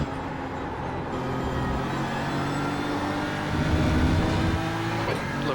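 Race car engines in the iRacing sim during an IMSA race, a loud sustained drone with shifting revs as a faster car closes in from behind, continuous throughout.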